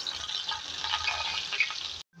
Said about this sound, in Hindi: इसको फ्राई करेंगे नाज़रीन